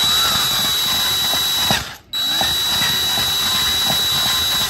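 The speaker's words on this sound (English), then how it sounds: "drill out the head of the bolt here" A power drill grinds steadily through the head of a steel bolt on a Specialized Aethos bicycle, running close and loud with a brief stop partway through before resuming.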